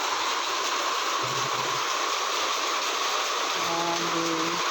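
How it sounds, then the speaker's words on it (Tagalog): Heavy rain pours steadily during a July flood, a dense, unbroken hiss that stays level throughout, with faint tonal hums beneath it. "Lakas na rin ng ulan."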